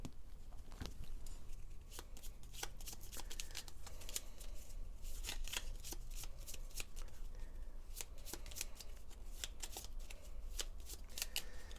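Gloomhaven board game cards being shuffled, a steady run of quick riffling snaps and papery slaps for about twelve seconds, close and fairly quiet with no talking.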